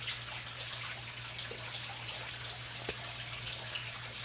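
Water pours steadily into a tank over a spool, making a soft, continuous trickle with faint drips and no voices.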